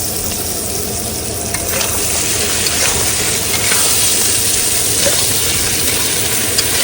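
Crab pieces drop into frying masala in a pan, setting off a loud, continuous close sizzle with occasional stirring scrapes and spatters, no voices.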